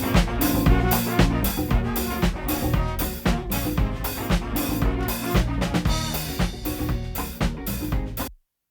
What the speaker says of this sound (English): Now, the one thing I'm going to add to this is the room mic.